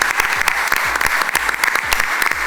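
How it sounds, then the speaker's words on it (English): Applause at a corporate quiz final: close, crisp claps from a modest crowd, individual hand strikes audible in an uneven rapid patter lasting the whole stretch. "I think he deserves a round of applause"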